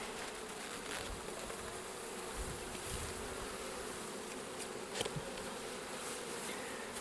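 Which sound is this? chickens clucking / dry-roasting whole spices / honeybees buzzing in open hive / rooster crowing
honeybees buzzing in open hive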